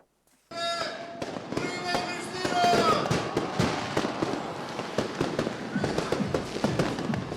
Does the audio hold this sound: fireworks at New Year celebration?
yes